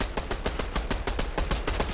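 Rapid automatic gunfire in a shooter video game, a steady loud burst of about ten shots a second that runs the whole time with no talk.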